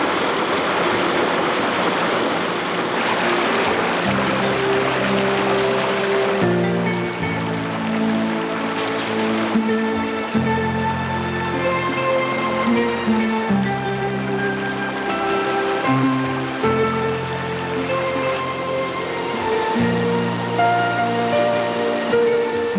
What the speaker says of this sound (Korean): 지금 여기 지금 폭포가 흐르고 있습니다만